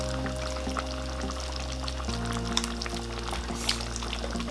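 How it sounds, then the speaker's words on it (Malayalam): Water being poured into a pot of chicken curry, a soft trickling pour against a low steady hum, faint and close. "ഇതിനകത്ത് ഞാൻ വീണ്ടും വെള്ളം ആഡ് ചെയ്യാൻ പോവാണ്."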